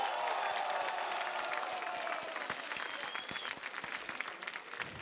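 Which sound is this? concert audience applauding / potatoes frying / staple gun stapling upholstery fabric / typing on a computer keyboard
concert audience applauding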